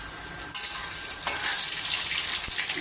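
Ginger and urad dal hit hot oil with a sudden sizzle that settles into a steady hiss, with a couple of light utensil clicks, close up and without speech.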